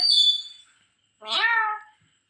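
A parrot imitates a cat's meow: one drawn-out, rising-then-falling mew, clear and close, after a fading high whistle.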